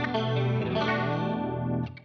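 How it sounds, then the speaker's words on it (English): A clean electric guitar chord shimmers with a wide, swirling dimension chorus effect from a Line 6 Helix, sustaining steadily before fading out at the end. "Bit of dimension chorus."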